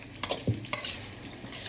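Coconut and coriander seeds with onion and tomato stirred in a hot pan for chicken curry, a soft sizzle under a few scraping spoon strokes, close and fairly quiet.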